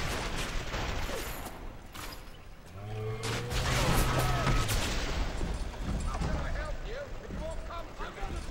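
Video game gunfire in BioShock crackles in rapid, dense bursts under someone talking, with a low humming tone and chirpy game effects mixed in throughout.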